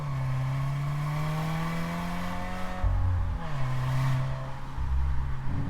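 A 2019 Subaru WRX with its 2-litre twin-scroll boxer four-cylinder accelerates steadily from inside the car, engine drone climbing through the gears with a brief shift break partway through, loud and continuous with no talking.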